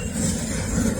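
A Norfolk Southern intermodal freight train crosses the connector in Lynchburg, Virginia, passing close with a steady loud rumble and rolling wheel noise and some faint metallic clinks, no voices.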